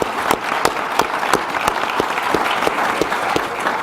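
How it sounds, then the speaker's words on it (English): An audience applauds at an awards showcase, a full, continuous roll of clapping from a large crowd, loud and close, with a few sharper individual claps standing out at regular intervals over the steady wash. "can I have a round of applause"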